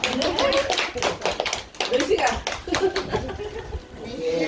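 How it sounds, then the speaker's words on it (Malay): Children clap their hands together at a home gathering for an Isra' Mi'raj speech performance, a scattered, uneven burst of close claps with kids' voices and chatter mixed in throughout. "Tepuk tangan lah."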